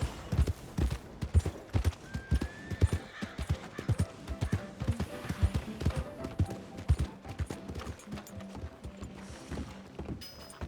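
Rhythmic clip-clop of horse hooves at a steady walking pace in the video game Red Dead Redemption 2, close and distinct, with a brief whistle-like tone and a faint snort.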